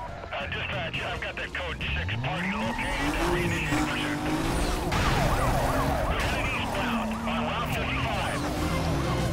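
Police sirens wail and rise during a car chase in Need for Speed: Most Wanted (2005), played with a Mazda RX8. The sirens sit over loud engine roar and screeching tires, with someone talking over the game.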